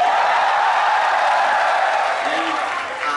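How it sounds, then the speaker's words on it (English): A large crowd at an esports tournament final applauds and cheers in a steady, dense roar of clapping and voices that fills the whole moment and eases slightly toward the end. "Thanks for already cheering me."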